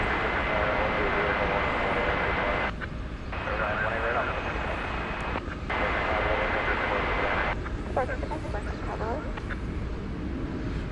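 A Cathay Pacific airliner departs DFW Airport at night with a continuous, rumbling engine roar. Voices talk intermittently over it.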